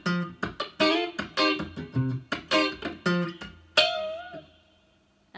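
A funk guitar riff plays alone: choppy, staccato muted strums in a tight rhythm, ending with a two-string chord where one string is bent and left ringing as it fades.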